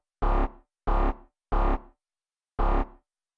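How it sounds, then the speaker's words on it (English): Four short processed bass hits, a reversed bass shot sample from a trance sample pack, each a swelling distorted burst ending abruptly, spaced unevenly with silence between, heard alone. "Is an audio reverse bass 2, which was a bass shot from a trance pack run through Nimble Kick"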